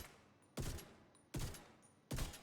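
Rifle fire in a video game sounds as three loud, sharp shots evenly spaced about three-quarters of a second apart, each with a brief echoing tail, and no voices.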